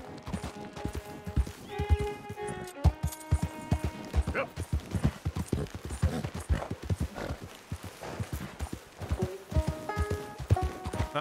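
Horse hooves clip-clopping at a brisk, steady rhythm in the video game Red Dead Redemption 2, with a neigh and game music tones layered over the hoofbeats.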